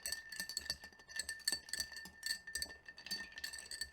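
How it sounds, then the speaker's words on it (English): Scotch cocktail stirred in a mixing glass, with ice clinking and rattling in quick repeated bursts at close range, with no talk. "So we're going to give it a good stir."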